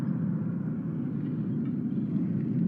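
A storm monster in the Minecraft Story Mode game rumbles as a deep, continuous, steady roar, loud and unbroken throughout, with no voices.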